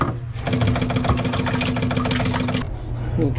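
A Stoelting U431 soft-serve ice cream machine's air pump runs with a fast, steady mechanical chatter, close and fairly loud, then cuts off abruptly near the end.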